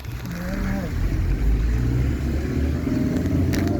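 A Mahindra Bolero rumbles along the winding Agumbe ghat road, a steady low engine drone heard from nearby, with people talking over it.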